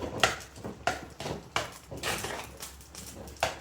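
Boiled tapioca is stirred with ground coconut paste in a pan, giving a quiet series of irregular scraping and knocking strokes of a spoon against the pan, with no talking.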